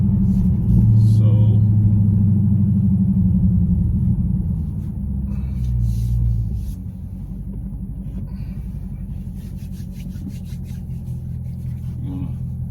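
Car with a mid muffler delete rumbling from inside the cabin, a deep loud exhaust drone that swells early, then drops to a lower steady idle-like burble as the car slows down.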